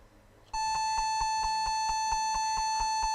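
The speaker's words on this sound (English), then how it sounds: "Well, I don't think that fixed the beeping." A Compaq Presario F500 laptop gives out error beeping: a sharp, steady high tone switches on abruptly and holds, overlaid by a fast, regular train of pulsing clicks, loud and close with no talk.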